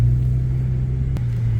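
Big diesel vehicle idling in a parking lot, a close, loud, steady low rumble throughout with one brief click partway through.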